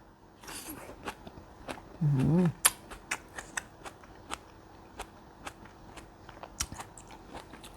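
Biting into a tomato stuffed with pickled plum, with a short squelchy bite followed by a run of soft, close crunching and chewing clicks, quiet and alone.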